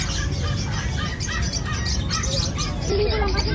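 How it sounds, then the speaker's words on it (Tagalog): Many birds squawk and chirp continuously at a busy animal market in Bocaue, Bulacan, a dense chattering chorus under steady crowd noise and nearby voices. "Daming ibon guys."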